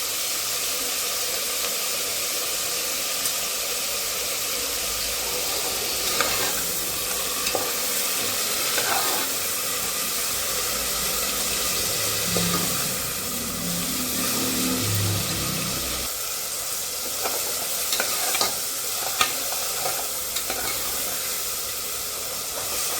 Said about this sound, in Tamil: அது போட்டு வதக்கிடுவோம்.